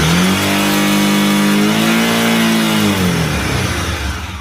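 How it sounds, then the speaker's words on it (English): A motorcycle engine revs up loudly and close by while its charging system is being tested, the pitch climbing, holding, then easing back down as the revs drop. "Now when I rev up the engine, you can see the field coil go up to 80 volts."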